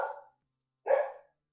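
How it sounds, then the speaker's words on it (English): A dog gives two short, loud barks close by, separated by a brief silence, with nothing else audible. "no barking."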